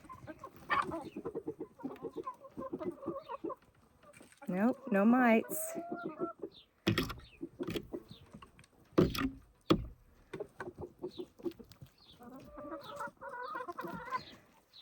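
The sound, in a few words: chickens clucking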